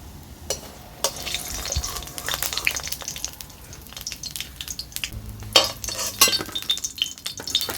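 Masoor dal fritters crackle and sizzle in hot oil, punctuated by scraping and clinks of a utensil against the pan as they are lifted out.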